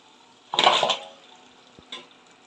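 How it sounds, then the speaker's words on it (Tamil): Cooked mutton is tipped into masala in a pot for biryani, making a short wet clattering slide with a metallic scrape, followed by a quieter tap, close and alone. "இந்த டைமில் வேக வச்ச மட்டனை உள்ளே சேர்த்துக்கலாம்."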